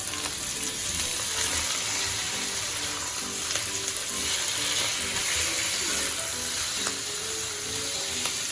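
Chettinad-style chicken varuval, a spicy dry-fried chicken, sizzles hard and continuously in a pan, a dense loud hiss with faint stirring ticks mixed in.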